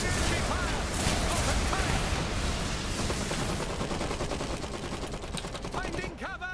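Battle gunfire in the strategy game Iron Harvest: dense, continuous rifle and machine-gun fire with scattered blasts throughout, under game voice lines calling out orders.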